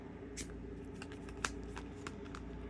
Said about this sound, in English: we will shuffle this real quick